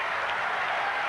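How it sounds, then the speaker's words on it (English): A large crowd roars at The Gabba in Brisbane during a 1991 Queensland versus Victoria State of Origin football match, a loud, continuous wash of noise across the whole short moment. "listen to the crowd."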